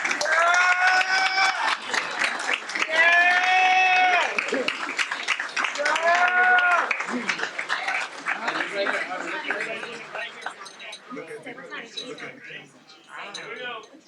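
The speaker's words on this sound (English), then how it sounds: "Let's give them a big round of applause." An audience at a school board meeting applauds College Station athletes and coaches, with loud sustained clapping, a few whoops and cheers, and chatter that gradually takes over as the clapping dies down.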